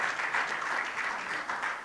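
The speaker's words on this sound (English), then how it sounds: "A round of applause for Katuchi Katsandi." Steady applause from a conference audience at a summit session, a dense even patter of many hands clapping that holds throughout without any voices.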